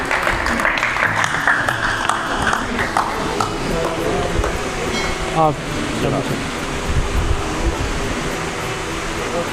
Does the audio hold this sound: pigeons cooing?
no